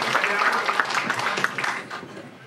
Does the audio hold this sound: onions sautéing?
no